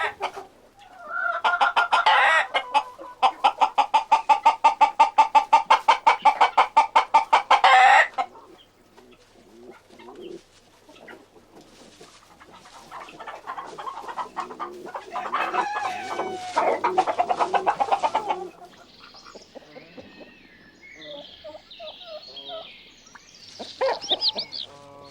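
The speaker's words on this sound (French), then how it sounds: "le coq visite ponctuellement ses 3 ou 4 autres femelles" Rooster crowing and hens clucking in a farmyard poultry yard: a loud, rapid burst of rhythmic calls opens, then mixed clucking and crowing of several birds continues near and fairly loud, with sharper calls near the end.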